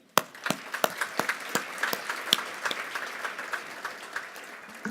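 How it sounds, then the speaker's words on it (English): Scattered, sparse hand claps at a charity gala dinner, separate sharp claps spaced out over several seconds rather than a full ovation, fairly faint and in a roomy hall. "I'd like to give a round of applause to those at the KCC for all the great things that you do"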